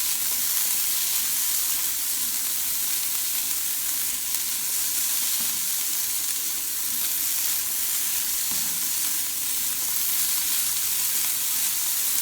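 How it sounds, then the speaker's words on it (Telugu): Vegetables sauté in coconut oil with cumin and turmeric, a loud, close, continuous sizzle and frying hiss that holds steady throughout with no pauses. "జస్ట్ 2 మినిట్స్ అలా సాట్ చేస్తాము. సాట్ చేస్తే కోకోనట్ ఆయిల్, జీలకర్ర, పసుపు, ఆ ఫ్లేవర్ అంతా అన్నిటికీ బాగా పడుతుంది"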